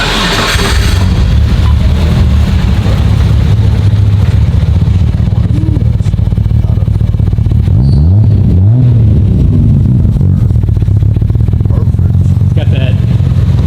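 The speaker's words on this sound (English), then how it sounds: "And the motor sounds super healthy." A freshly rebuilt RB engine in the Smokey Nagata TopSecret Toyota Supra runs loud and close, a steady deep rumble throughout with a brief rising rev swell near the end.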